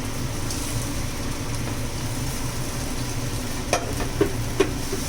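Paneer being stirred into a sizzling paste for butter paneer with capsicum: a steady, close frying hiss runs throughout, with a few faint clicks from the pan near the end.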